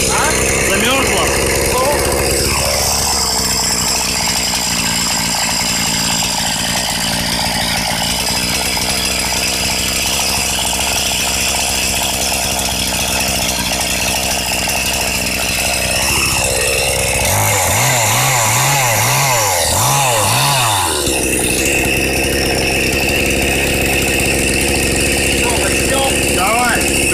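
A chainsaw runs in a cold, dark forest, its engine droning loudly and close, then sputtering and revving unevenly near the end as it struggles in the frost.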